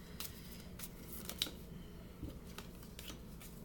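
Tarot cards being shuffled, a soft, quiet run of riffling and flicking sounds with a few sharper snaps, close and low in level, with no talk.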